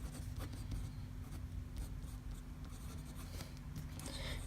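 A wet fountain pen writing on 80 GSM copy paper, steady close-up scratching with short stroke bursts, quiet and continuous with no talking.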